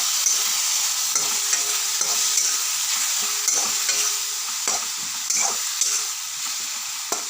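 Tomato paste fries with spices in a pan, a continuous hissing sizzle broken by repeated scraping strokes as it is stirred, close and fairly loud with no talk.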